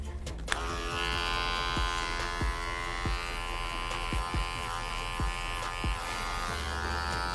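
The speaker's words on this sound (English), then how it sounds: "I'm going to use my number 1, snap it onto my adjustable clipper, and I'm going to start cutting upwards with a C stroke" An adjustable hair clipper fitted with a number 1 guard buzzes steadily, close and fairly quiet, cutting upward from the temple in a faux hawk haircut, with brief clicks and small changes in tone as it moves through the hair.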